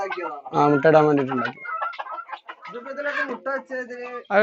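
Country hens clucking up close in short, uneven bursts of throaty calls with brief pauses between them.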